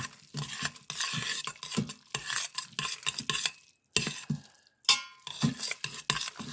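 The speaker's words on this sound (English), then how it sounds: "We're going to give it a little stir to help it melt." Butter melting in an Instant Pot while a utensil stirs it, giving close clattering scrapes against the pot in uneven bursts over a light sizzle, with two brief silent gaps.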